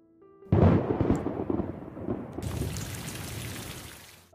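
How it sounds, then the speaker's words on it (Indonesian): Heavy rain and thunder in a film: after a moment of quiet, a loud thunder crash rolls in and rumbles down, giving way to a dense, steady downpour that continues alone to the end. "Malamnya, hujan deras dan Jun belum kembali"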